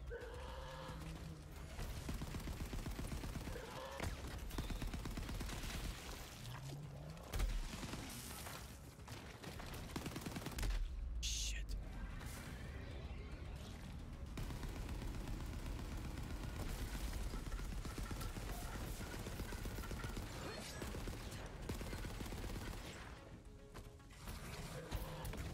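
Dense, continuous gunfire and bursts from a Borderlands 3 firefight, loud and sustained throughout with a few heavier crashes, no speech over it.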